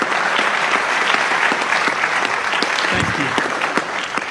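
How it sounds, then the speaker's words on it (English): A crowd at a town hall meeting in Astoria, Oregon, applauds: thick, sustained clapping from many hands, loud and even throughout, with no break in the noise. "Give them a round of applause."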